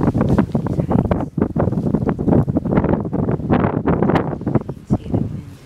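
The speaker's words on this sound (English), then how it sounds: "See, the wind is blowing." Strong wind roars steadily through a snowy blizzard on a very cold day, a loud continuous gusting rush buffeting the microphone throughout without any pause.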